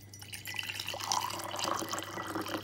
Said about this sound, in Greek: Βάζω μέσα ζεστό νεράκι